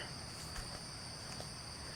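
Grasshoppers in a garden high tunnel planted with dill keep up a steady, high, continuous chirring drone, moderately loud and unbroken throughout, with no voices.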